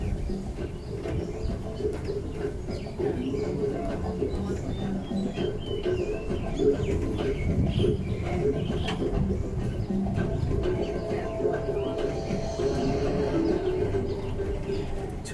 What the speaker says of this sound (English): To your right is Royal Raffle, home of crown pigeons, the world's largest and most beautiful pigeons.